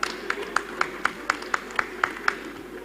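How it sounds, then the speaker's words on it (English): Faint, evenly spaced claps in a steady rhythm, about four per second, from an audience at an engineering institution's 65th anniversary ceremony, with no voices over them. "I think we clap for the chairman of council."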